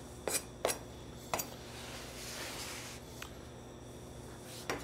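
A knife cutting marzipan-topped almond petit fours into cubes, a few sharp clicks of the blade against the board spaced apart, faint and close over quiet room noise.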